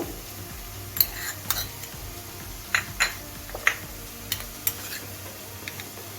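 Ginger-garlic paste frying in a pan gives a low, steady sizzle, and a spoon scrapes and taps against the metal now and then while it is stirred, with no talking.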